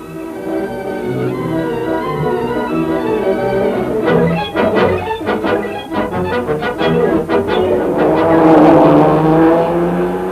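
A 1936 Austin 7 racing car crosses the finish line at speed with a loud, harmonic engine roar that flutters in rapid bursts midway and then swells into a brighter, rising rush.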